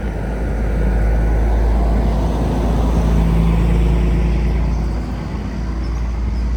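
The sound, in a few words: truck passing by on the road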